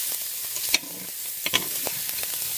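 Onions and beef fry in a soup pot while being stirred, a steady close sizzle punctuated by a few sharp scrapes and taps of the utensil, with no talk.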